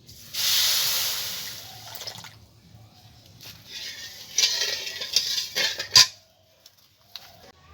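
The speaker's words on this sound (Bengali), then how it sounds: "দিয়ে দেবো 1 বাটি জল" A bowl of water poured into a pan already holding semolina and sugar for gulab jamun, a loud rushing splash at first, then a softer trickle and clinks of the bowl against the pan, close by with no talk.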